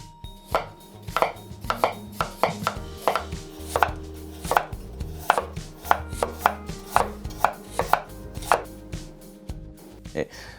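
Sugimoto carbon steel Chinese cleaver chopping a carrot, a steady run of sharp, close knife strikes on a board, about two per second, with nothing else heard.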